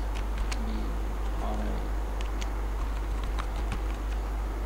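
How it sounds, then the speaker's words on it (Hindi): Typing on a computer keyboard, scattered light key clicks over a steady low hum and background noise. "जैसे मैंने यहाँ पे टाइप किया है"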